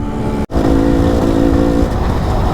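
Enduro motorcycle engine droning loud and close while riding, a steady rumble with a brief cutout near the start, then a sustained tone holding under load, no voices.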